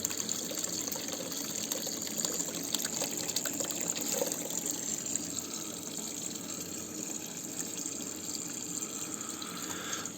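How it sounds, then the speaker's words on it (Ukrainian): Steady rushing water flows continuously through a hydroponic pipe system in a basement garage, a close, even gush with no talking. "Десь такий потік води."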